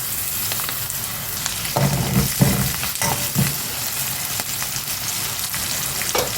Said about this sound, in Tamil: அஞ்சு முட்டையும் உடச்சி ஊற்றி கொஞ்சம் சாப்பாட்டுக்கும் இந்த முட்டைக்கும் தகுந்த மாதிரி பாட்டி இந்த உப்பு போட்டுக்கிறேன்